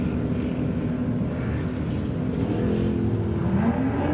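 A 1984 Ford Mustang GT350 bracket drag racing car at a night drag strip, giving a loud, steady low engine roar that holds constant and rises slightly in pitch toward the end.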